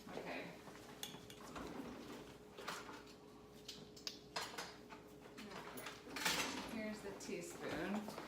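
Teaspoon pulled from a kitchen drawer, with metal cutlery clinking and rattling in a few brief, light bursts beneath kitchen talk.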